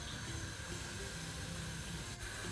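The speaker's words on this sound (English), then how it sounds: "Once everything is sizzling" Bay leaf, green cardamom pods, a cinnamon stick and cumin seeds frying in hot oil give a steady, even hiss of sizzling that holds through without any break or talk.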